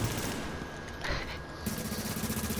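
Rapid automatic video-game gunfire hammers without pause, steady and close, with the rhythm of the shots tightening toward the end and no voices over it.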